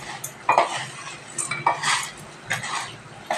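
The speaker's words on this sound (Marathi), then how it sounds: "आता हे जिरं भाजते." Cumin seeds are dry-roasted and stirred in a pan for a spice masala, with repeated clattering scrapes and metal clinks of the spoon in an irregular rhythm, close and fairly quiet, without speech.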